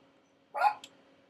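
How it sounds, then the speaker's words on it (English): A single small chihuahua bark sounds indoors at a distance, one short yap with a faint echo, over a low steady hum and with no talk. "that's my chihuahuas barking at somebody somewhere"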